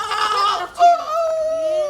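A goat bleats at close range in a quavering, nasal call: a first cry, a brief pause, then a longer sustained bleat that trails off.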